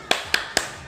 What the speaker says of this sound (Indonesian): Hitungan ketiga semuanya tepuk semangat